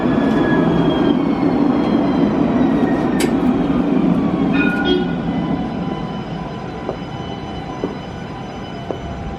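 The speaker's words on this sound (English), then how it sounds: "I hear my tram coming right now" A tram rumbles and rolls nearby, wheels whining and squealing faintly as it slows, the rumble gradually easing.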